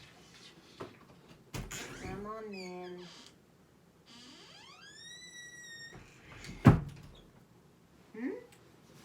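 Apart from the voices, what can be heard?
door being opened to let a cat in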